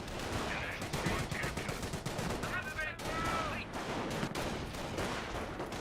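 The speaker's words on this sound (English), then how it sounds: "Panzer Grenadiers now engaging the Rifle Squad" Dense gunfire fills a Company of Heroes battle as Panzer Grenadiers engage a Rifle Squad, with rapid overlapping rifle and machine-gun bursts running steadily throughout and faint talk mixed underneath.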